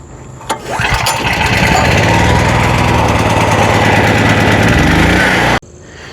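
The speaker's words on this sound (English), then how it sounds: "go ahead and get the generator running" Small portable generator engine pulled into life, then running loud and steady with a constant buzzing drone for several seconds before cutting off abruptly near the end.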